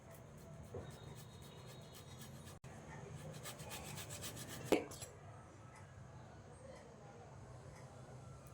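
A potato is rubbed against a hand grater for a Navratri fasting dish, making soft, rhythmic scraping strokes for several seconds, then a single knock and quieter handling. A voice can be heard faintly in the background.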